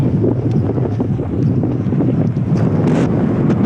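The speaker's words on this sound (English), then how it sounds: "This wind is insane. It's steady 40 miles an hour with gusts over 50." Strong wind, steady 40 mph with gusts over 50, roars and buffets the microphone in a steady low rumble at a MotoGP track, with gusting surges and faint rattling, no voices.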